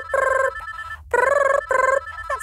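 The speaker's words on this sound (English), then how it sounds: "That's the other telephone." A telephone rings in repeated double bursts of bright electronic trilling, three rings separated by short pauses, clear and close with nothing else over it.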